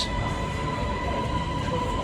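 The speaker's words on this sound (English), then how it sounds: "First experience of the Bangkok Underground." A Bangkok MRT underground subway train running, a steady loud rumble of wheels and carriage noise with a constant whine over it, heard from inside the car.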